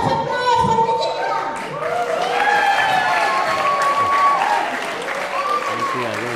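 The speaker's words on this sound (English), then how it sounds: "One more huge round of applause for Evgenia." At the Stars of the Albion event, the audience gives loud, sustained applause and cheering, with voices and shouts rising over the clapping throughout.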